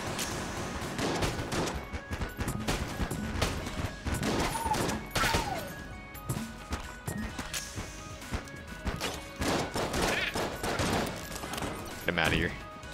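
Rapid cannon and gun blasts in the Enter the Gungeon video game fire in irregular bursts alongside crashes and impacts, with a player talking over the action.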